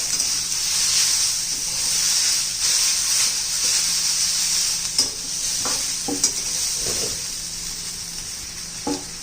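Coriander and spice masala sauté in a pan for a rustic Maharashtrian curry, a steady bright sizzle with a few spatula scrapes and knocks against the pan, close and alone.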